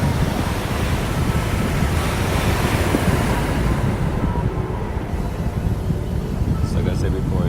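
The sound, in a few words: ocean waves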